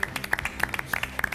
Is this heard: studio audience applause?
yes